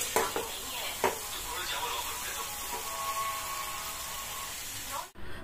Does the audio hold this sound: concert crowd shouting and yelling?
no